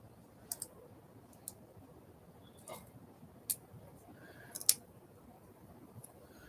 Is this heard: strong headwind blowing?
no